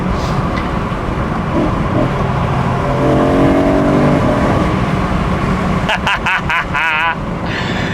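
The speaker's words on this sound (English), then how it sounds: "Listen to those downshifts." A BMW M3 E92 with its V8 engine downshifting, a loud nearby engine note with rev blips and a rapid burst of crackling pulses near the end.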